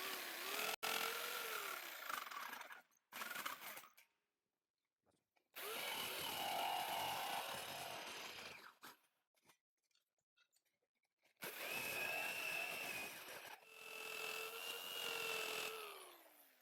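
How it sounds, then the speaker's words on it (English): A jigsaw cuts a metal hospital plate for a horse shoe in three long, loud, buzzing runs, each with a steady whine, separated by short pauses of near silence. "now when I'm coming in with my jigsaw, I don't have to try to do a sharp 90-degree bend"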